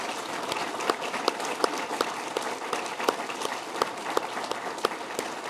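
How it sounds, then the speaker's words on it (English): A crowd at a Syracuse Hockey Hall of Fame induction ceremony applauds its five inductees with a steady, moderately loud round of clapping, sharper individual claps standing out now and then. "Let's have another round of applause, though, for our 5 inductees"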